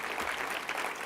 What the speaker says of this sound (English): And so a round of applause also for Peter Edelman, who is here.